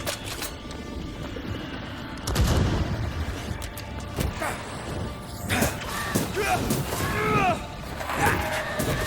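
Rifle fire in Banishers: Ghosts of New Eden, a few heavy booming shots spaced seconds apart amid combat clatter, with a voice speaking briefly in between.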